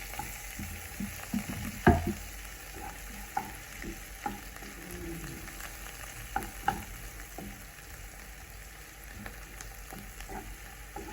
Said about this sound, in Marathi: कांदा जरा सोनेरी रंग होईपर्यंत परतून घ्यायचा आहे